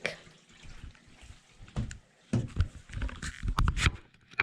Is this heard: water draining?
yes